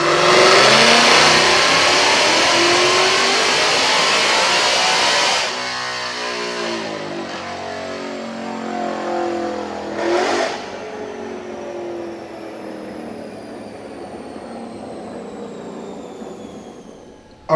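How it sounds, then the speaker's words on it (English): A supercharged Roush RTR 2020 Mustang with an automatic transmission, tuned on 93 octane, roars loudly on a Dynojet dynamometer, revving hard to high RPM for about five seconds before cutting off and winding down with a supercharger whine and a brief blip. "Check out this dyno pull."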